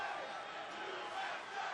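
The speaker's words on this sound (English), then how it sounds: "What do we have, a USA chant?" An arena crowd at a TNA Lockdown 2013 wrestling event chants in unison, a broad wash of massed voices heard from a distance at fairly low level for just under two seconds.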